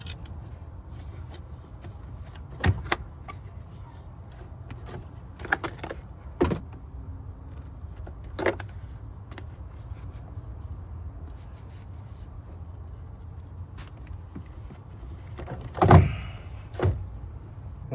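Removing the battery retaining bracket screw on a 2019-2021 Toyota RAV4: sparse, close metallic clicks, taps and small rattles of tool and hardware over a quiet background, with no talking.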